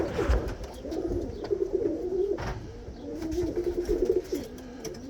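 Racing pigeons coo softly in a loft during bird selection, giving repeated low throaty rolling calls in two clear bursts, with faint rustling and clicks around them and no talk.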